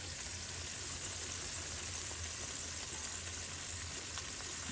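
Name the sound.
pork chops frying in a pan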